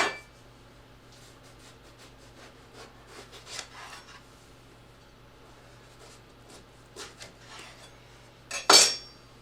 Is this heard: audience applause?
no